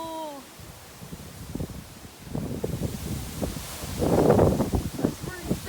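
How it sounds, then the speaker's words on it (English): Strong wind gusts from a squall line storm rush through trees outdoors, with rustling surges that swell and fade and grow loudest near the end, while a voice speaks briefly at the start. "Those gusts. These gusts."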